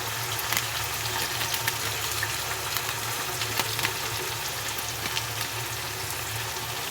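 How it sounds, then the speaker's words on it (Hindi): Chicken fries in a pan with tandoori masala, making a steady, close sizzle and crackle with small pops throughout and no talking. "जब तक हमारा चिकन अच्छे से भून जाए, लाइट ब्राउन हो जाए, जब तक भूनेंगे 5 मिनट लगेंगे।"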